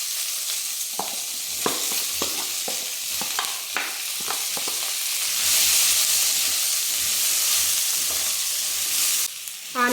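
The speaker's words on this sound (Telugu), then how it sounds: "ఆనియన్స్ అయితే బాగా వేసేసి బాగా కలుపుకోవాలి ఇవి కూడా దోరగా వేగిపోవాలండి" Chopped onions sizzling loudly in a hot pan, stirred with repeated scraping strokes of a spoon over a continuous hissing fry that swells midway, close and without talk.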